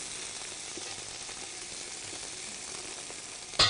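Onion frying in a pan: a steady, dense sizzle, close and even throughout, with a brief louder clatter right at the end.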